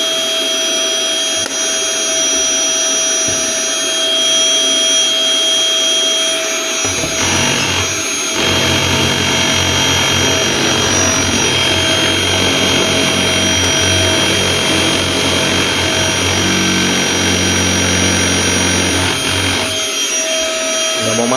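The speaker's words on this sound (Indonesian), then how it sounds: "Kita pencet satu lagi, muternya lebih kenceng." Hoover Mite Crusher vacuum cleaner motor whining loudly and steadily, then jumping to a higher speed with a deeper, rougher roar for several seconds before dropping back toward the lighter whine near the end.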